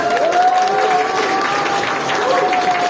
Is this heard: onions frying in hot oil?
no